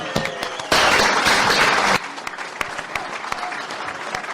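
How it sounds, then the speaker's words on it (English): Audience applause for podcast guest Trevor Sinclair at a live QPR podcast show, a loud burst of clapping that swells suddenly, holds for over a second, then drops back to scattered claps and room noise. "please give a big round of applause to Trevor Sinclair for coming on the show"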